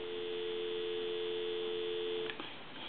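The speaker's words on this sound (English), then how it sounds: "I'm going to give you some dial tone." A telephone plugged into a regular line gives a steady, close, continuous dial tone that holds at an even level, then breaks off with a couple of faint clicks near the end.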